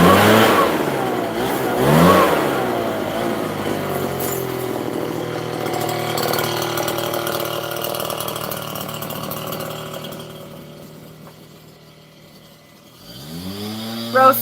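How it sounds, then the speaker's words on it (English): A gasoline leaf blower engine drones steadily nearby, rising and falling in pitch with revving, fading slightly before surging loud again at the end. "come over here with a leaf blower"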